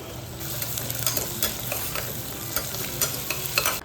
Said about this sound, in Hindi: फिर उसमें कटिंग की हुई प्याज और आलू को डाल के अच्छे से 2 मिनट के लिए भून लिया।